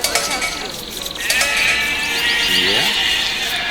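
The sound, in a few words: sheep bleating in Age of Empires video game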